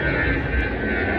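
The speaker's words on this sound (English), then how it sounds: "a plane takes off right there" A propeller airplane takes off close by, its engine giving a steady, loud broadband roar that fills the whole moment without pause.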